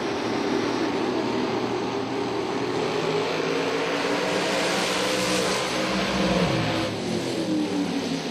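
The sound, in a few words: drag racing dragster and Corvette engines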